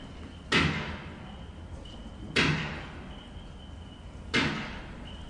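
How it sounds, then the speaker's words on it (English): Three loud, sharp blows against a door, spaced about two seconds apart, each ringing off briefly; a recording of a door being struck, played back in court at the Pistorius trial. "And you were responsible for hitting the door."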